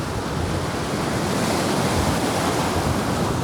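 Waves of Lake Ontario washing steadily against the Mimico shore in Toronto, a loud continuous rush mixed with wind buffeting the microphone.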